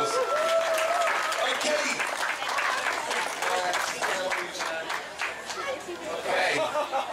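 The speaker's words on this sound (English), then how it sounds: "Give her a huge round of applause." Crowd applause at the World Elver Eating Championship in Frampton on Severn, a lively round of clapping mixed with chatter and laughter from onlookers, with a voice speaking briefly through it.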